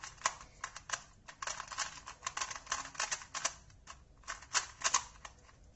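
A speed cube puzzle is turned in quick clicky bursts, with rapid plastic clacks in uneven runs and brief pauses, close and fairly quiet, with no talking.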